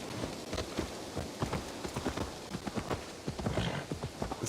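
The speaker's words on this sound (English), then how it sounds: "I'm gonna take a horse." Horse hooves clip-clopping steadily in Assassin's Creed Valhalla, a rapid continuous trotting rhythm up close, with a faint rain-like hiss underneath.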